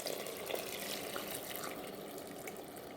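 A pot of water boiling on the stove for cooking eggs produces a steady, close bubbling hiss that holds an even level throughout, with no voices.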